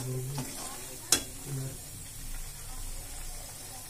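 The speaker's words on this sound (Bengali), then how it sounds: "দেখো কত সুন্দর ঘিটা মারা হচ্ছে" Ghee sizzling and hissing softly in a pan while a person speaks over it, with a sharp clink near the start and a steady frying hiss underneath.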